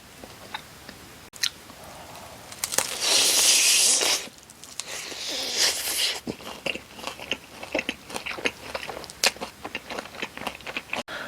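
Crispy sweet-salty chili chicken wings are bitten and chewed up close, with loud crackling crunches, a burst of tearing crispy coating, then a long run of wet, irregular chewing and smacking, with no talking.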